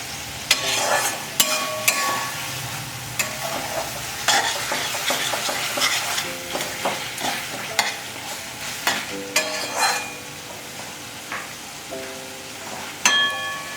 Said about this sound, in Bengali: দেখুন মশলাটা কতটা কষা হচ্ছে আরও পাঁচ মিনিট কষবো